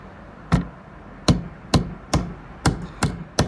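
Roll pin being tapped into a Mazda 3 BL key fob blade with a hammer; eight sharp, close taps at a slow, slightly uneven pace, no talk.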